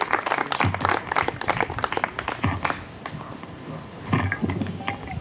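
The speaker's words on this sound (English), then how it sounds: "How about we give another round of applause for him?" Graduation audience applauding a student's speech in Sudbury, a dense crowd clapping steadily for several seconds, swelling and easing with a brief lull before picking up again.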